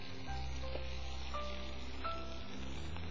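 Onions frying in hot oil in a pan, a steady, close sizzle over low hum that holds for the full stretch with a few faint ticks and pops.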